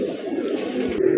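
A pair of large Rajgolla pigeons at a farm coo steadily, a low continuous burbling that stays close and fairly loud, with softer background activity behind it and no talk.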